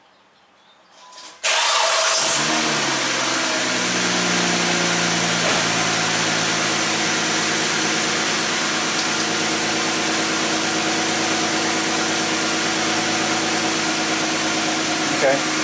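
A car engine starts with a sudden roar after a moment of quiet, then settles into a steady, loud idle with a busy rhythmic hum. The idle may show a cylinder misfire.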